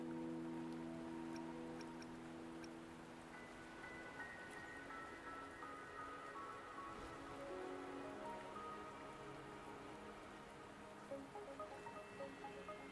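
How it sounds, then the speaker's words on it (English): Steady rain falling in the video game Wuthering Waves, a soft continuous patter of drops on surfaces that holds at an even, faint level throughout, with tonal game music underneath. "The rain won't last much longer."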